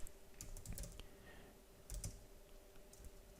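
Computer keyboard typing, a faint, close series of irregular key clicks in short bursts with brief pauses, no voices.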